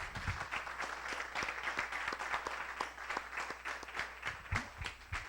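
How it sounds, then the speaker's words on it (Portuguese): A church congregation claps for Jesus with distinct, sharp hand claps over a softer crowd bed, the applause fairly even and moderately distant, with a low steady hum running beneath. "Vamos dar uma salva de palmas a Jesus"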